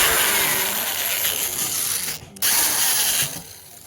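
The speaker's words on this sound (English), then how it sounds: "let me show you how I pre-drill my hose." A power drill pre-drills holes in wood for a raised garden bed, a loud close whine running steadily, briefly cutting out and restarting, then winding down.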